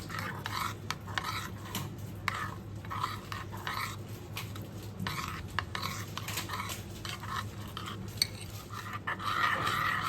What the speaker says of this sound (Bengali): সমস্ত উপকরণগুলো খুব ভালোভাবে মেশাতে হবে।